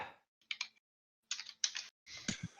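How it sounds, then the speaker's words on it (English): Aggressive typing on a keyboard comes in short, sharp bursts of rapid key clacks separated by pauses, close and crisp with no talking. "All we can hear is aggressive typing"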